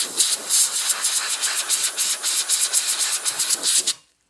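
Compressed air hissing in rapid pulsing bursts from a Con'celect air system stylus, a loud, close, steady hiss lasting about four seconds before stopping abruptly.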